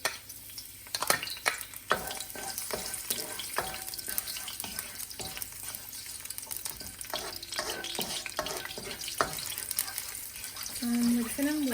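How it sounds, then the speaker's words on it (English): Garlic frying in hot oil for dragon chicken, a steady close sizzle under scattered clicks and scrapes of stirring, with a brief tonal squeak near the end. "Okay, so the oil is hot now. And we're gonna go ahead and add our garlic."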